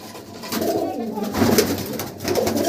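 Pigeons in a loft collection cooing in soft, repeated throaty calls close by, with a few overlapping birds and a faint voice in the background.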